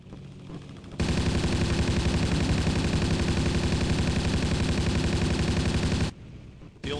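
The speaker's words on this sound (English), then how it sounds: "these guns on the Ju-88s, they don't have any overheating. You can just lay on them" Ju-88 bomber machine guns in Battlefield 1942 fire one loud, continuous rapid stream lasting about five seconds, with no pauses or overheating breaks.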